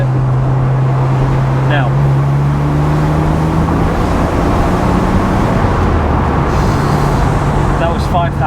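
Car engine revving up hard toward 5,000 RPM on a national speed limit road, a loud steady drone with rising engine tones and road noise throughout, a brief spoken word near the start.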